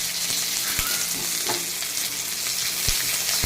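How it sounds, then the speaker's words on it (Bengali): Raw green chillies and garlic fry in a little oil in a pan, giving a steady bright sizzle with occasional crackles and spits, close up and continuous without any talk. "আমি তেলে কিন্তু কটা কাঁচা লঙ্কা রসুন ভেজে নেব"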